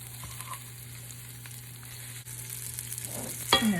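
Chicken fries in a pan with a steady, close sizzle, and a louder burst of crackling near the end as more meat goes in.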